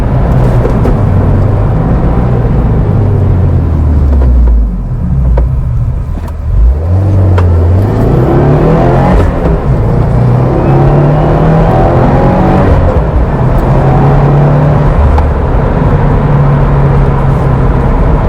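A white Subaru WRX with a manual gearbox accelerates hard through third, fourth and fifth gears, its loud engine rising in pitch, dropping at each shift and climbing again, heard from inside the car without talking.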